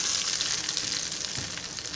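Hot mustard-seed tempering oil hits coconut chutney with a loud, steady, close sizzle that crackles densely throughout, no speech over it.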